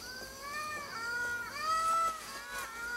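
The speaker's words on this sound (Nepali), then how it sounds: "टाटे पुच्छर भएको लेमुर सानो कुकुर जत्रै हुन्छ, तर उनीहरू बिरालो जस्तो आवाज निकाल्छन्।" A ring-tailed lemur gives a string of cat-like meowing calls, several rising and falling wails one after another, moderately close over quiet ambient background with no talk.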